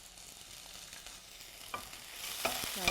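A lightly crushed leek mixture fries for a stew with a low, steady sizzle. A few utensil scrapes and taps come through, and the frying grows slightly louder and brighter near the end, close, with no voices.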